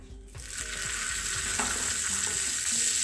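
A steady, hissing sizzle of butter frying in a small hot tempering pan builds quickly and continues close by, with faint clinks of a utensil.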